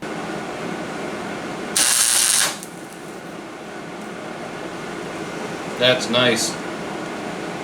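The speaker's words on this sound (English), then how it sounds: "We're going to go ahead and do a couple tack welds and test this." Tack welds join metal for a small grappling hook in two short crackling sizzles, the first lasting about a second and the second briefer, over a steady room hum, with a person speaking briefly.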